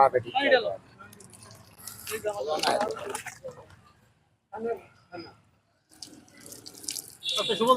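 Water runs from a tap in bursts, splashing and trickling, while people talk close by over it.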